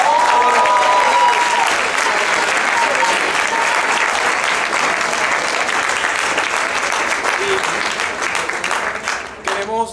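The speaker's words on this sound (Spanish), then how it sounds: "Queremos darle una ronda de aplausos al sonero clásico del Caribe" A theatre audience applauds loudly and steadily after a performance of La Quema de Judas, the dense clapping tapering slightly toward the end.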